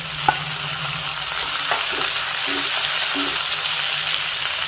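Chopped tomatoes frying in oil in a pan for an idli and dosa chutney produce a steady close sizzle, with intermittent stirring scrapes and soft taps of a spoon against the pan.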